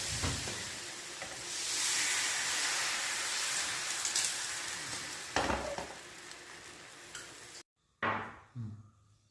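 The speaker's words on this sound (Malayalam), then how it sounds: "ചട്ടി ചൂടായിട്ട് ദോശ പാരാം." Dosa batter sizzles on a hot pan in a steady, bright hiss that runs without a break for several seconds. After a short gap it flares again in brief, louder bursts, and no one speaks.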